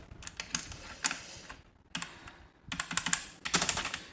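Typing on a high-profile, backlit Warwolf V10 mechanical keyboard with Cherry MX White switches, close up: bursts of crisp clacking keystrokes in irregular clusters separated by brief pauses, with no voices.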